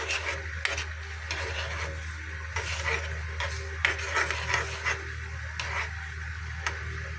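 Ginataang hukaido in a pan being stirred after salt and pepper go in, a steady scrape and clink of the spoon against the pan over a faint sizzle, close and moderately quiet with no talking.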